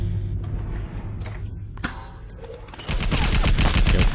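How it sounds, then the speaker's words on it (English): An automated turret fires at the player in the video game Bioshock, inside a dim store. Mechanical clicks and scattered shots build into a loud, rapid burst of sustained automatic fire near the end, with no speech. "Oh, but Joe seems to have activated this turret."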